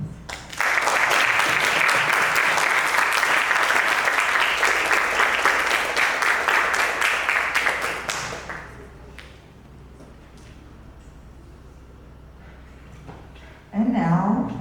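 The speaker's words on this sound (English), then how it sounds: "everyone and each one of you give her a round of applause" Seminar audience applause for a speaker: a dense, steady round of clapping for about eight seconds, then it thins into quiet room tone before a voice begins at the very end.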